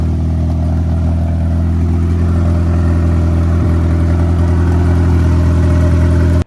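1991 Nissan Hardbody mini truck fitted with a 240sx turbo kit, its engine running at a steady, loud idle with a deep rumbling hum, close up and alone, cutting off abruptly at the end.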